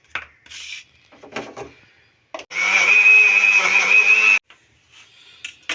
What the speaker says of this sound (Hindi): मिक्सी के जार में डाल दिया है। अब हम इसका पेस्ट बनाते हैं।